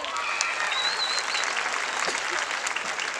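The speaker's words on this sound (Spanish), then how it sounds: "Aplauso para los que quieren canto." An audience at a live comedy show in Chimbote claps in steady, sustained applause, heard from within the crowd with faint murmuring beneath.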